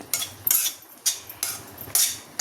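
A metal spoon stirs vegetables sautéing in oil in a pan, giving about five distinct, rhythmic scraping strokes close up, with light clinks between them.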